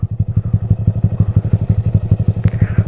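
A motorcycle engine chugs close by in a rapid, regular thump as the rider pulls the clutch to bring the bike to a stop, with a brief light clink near the end.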